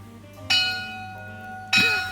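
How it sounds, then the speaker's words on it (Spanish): A bell strikes twice, each ring bright and sustained, with a steady hum running underneath between the strokes. "suena la campana"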